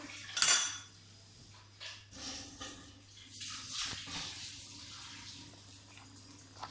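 A spoon clinks sharply against a bowl while one cup of yogurt is mixed into chicken for a dum pukht chicken roast marinade, followed by quieter, intermittent scraping and stirring.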